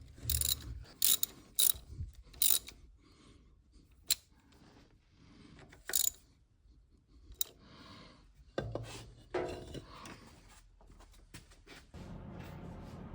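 Bolts are snugged up on a Sanford surface grinder motor shelf: a series of sharp ratchet clicks and metallic clanks with quiet gaps, followed by a low rubbing rumble near the end.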